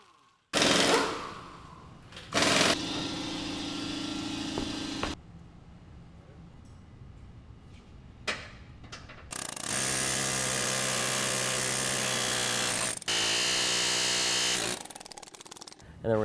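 Impact wrenches and power tools take the tires off a 2015 Ford F-150 raised on a shop lift, giving loud sustained rattling bursts broken by short pauses, close by with a voice talking.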